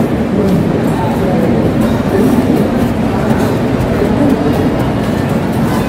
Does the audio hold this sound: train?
yes